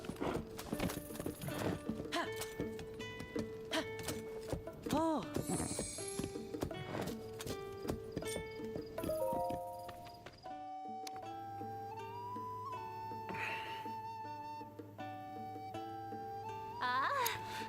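Hoofbeats clip-clop steadily from a horse in a video game, with an occasional whinny, mixed under layered game music and sound effects.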